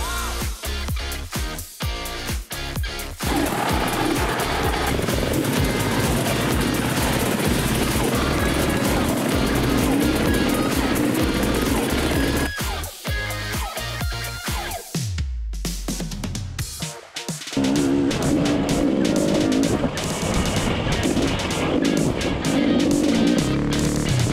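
Loud KTM motorcycle engines revving and roaring as several bikes pull away, with a brief drop in noise before engines surge again nearby.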